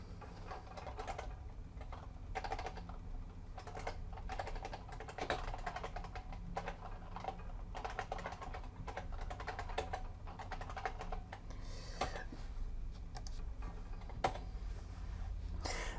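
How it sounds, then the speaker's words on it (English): Rapid, uneven clicking of keys typed on a computer keyboard in a bare DOS 7.1 environment, with irregular bursts and short pauses, close and fairly quiet, no talking. "you'll have to hit the hash key in order to be able to do this"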